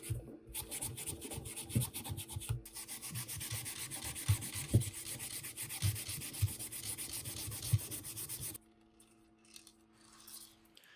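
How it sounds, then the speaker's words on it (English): Iron wool rubbing over 3D-printed plastic parts for an airsoft AK gives close, steady rhythmic scrubbing strokes with small clicks. It runs for about eight seconds, then drops to quiet handling. "if I sanded them with iron wool, it would take all the high spots and turn it this really cool silver color"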